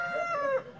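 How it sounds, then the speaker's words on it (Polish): A rooster crows loudly and close by in a rural yard during a clear sunny morning, one drawn-out call that rises and then tails off, with nothing else in the background. "Kogut się drze normalnie masakrycznie."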